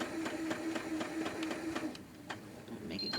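Sewing machine stitching buttonholes through thick leopard-print scarf fabric, a steady run of rapid needle ticks with a motor hum that stops partway, then a few separate clicks and a brief whirr near the end.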